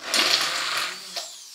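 Fresh figs are being puréed in an electric blender, a short, loud whirring burst that eases off and then flares briefly again near the end, with no voices.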